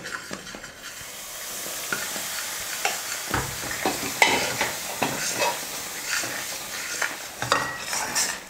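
A spoon stirs thick Mysore pak batter with hot oil in a kadai, scraping and knocking against the pan in a steady rhythm over a soft sizzling hiss, close and clear with no voices.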